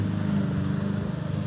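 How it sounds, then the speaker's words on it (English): A lawnmower drones steadily at a distance, a low continuous engine hum with faint pulsing. "they probably can hear the lawnmower in the background"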